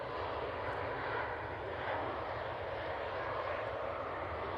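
Airbus A321neo airliner of Sun Air taxiing out for Barcelona, a steady, broad jet engine roar that holds at an even level throughout, with no one talking.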